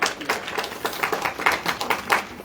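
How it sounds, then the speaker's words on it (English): Scattered clapping from an audience at a poetry reading, a light, uneven patter of hands that comes in loose bursts and never builds into full applause. "A round of applause,"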